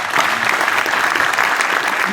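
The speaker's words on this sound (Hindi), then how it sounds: "भाई इनके लिए तो ताली बजाई दो।" Audience applauding for a university vice-chancellor in uniform at a campus event in an open-air theatre, dense steady clapping filling the space at close range without a break.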